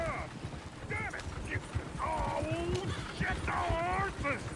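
Horses gallop in the Western game Red Dead Redemption 2, hoofbeats mixed with game sounds and an occasional whinny, steady and moderately loud throughout while someone talks over it.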